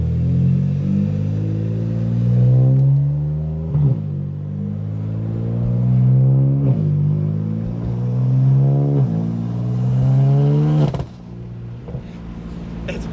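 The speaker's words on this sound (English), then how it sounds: "I'm just gonna get a few little clips of the car running and like bogging out" Car engine idling and revving in repeated rising surges, the note climbing and sagging as it bogs out, loud and close with a brief dip near the end; a voice speaks briefly.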